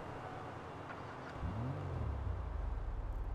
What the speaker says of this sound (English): listen to how the car sounds